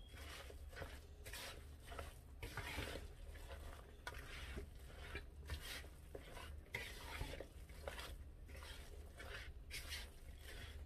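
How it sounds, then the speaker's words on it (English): Spoon or spatula folding apple cinnamon muffin batter with melted unsalted butter in a bowl, a steady wet stirring and scraping with soft clicks against the bowl, close and continuous with no talking. "So I'm just folding everything in, making sure everything is well incorporated."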